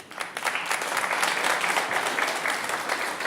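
Studio audience applauding a guest's entrance on a Christmas special music show, steady dense clapping throughout with no speech over it.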